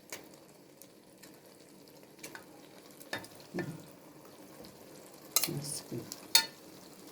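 A spoon stirs tomato sauce in a pot while cooking Egyptian stuffed cabbage and eggplant, with faint scraping and soft sizzling, brief clinks near the end, and a few quiet spoken words.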